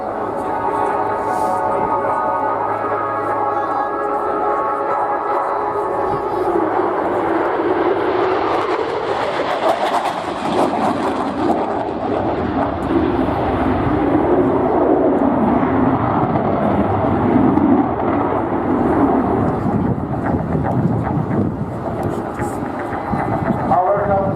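At the RIAT 2016 airshow, an aircraft makes a low flypast: a broad jet roar swells over several seconds, peaks loudly and then lingers as a long, rumbling fade.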